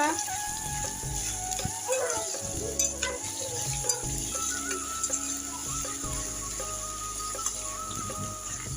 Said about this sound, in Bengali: আমি এটা একেবারে পেঁয়াজটা ব্যারেস্তার মতো করে দেবো